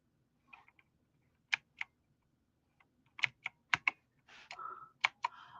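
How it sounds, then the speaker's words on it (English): Letters tapped out on a computer keyboard come through as sparse, quiet clicks, first scattered single taps and then a quicker cluster of keystrokes. "I'm just typing in letters right now."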